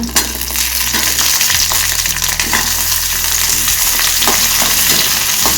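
Onions added to hot oil with dried red chillies for a spicy tomato chutney fry with a steady, close, loud sizzle, broken by occasional scrapes and clinks of stirring, with no talking.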